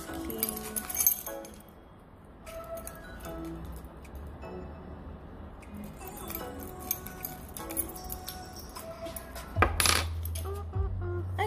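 Metal keys on a keyring clink and jingle intermittently in small bursts close to the microphone, with quiet stretches between handling sounds.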